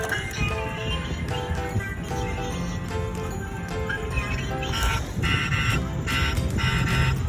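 A ride-on toy excavator backhoe sounds its horn in repeated electronic toots alongside tinny toy music and lively background noise, loud and close.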